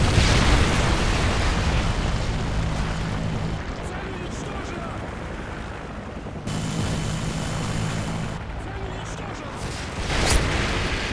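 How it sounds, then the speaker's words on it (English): Heavy, continuous rumbling roar of a Predator missile explosion in a video game, loud and dense throughout, dipping briefly before a second surge of blast noise. "Predator missile inbound."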